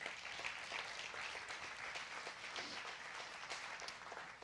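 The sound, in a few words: congregation applauding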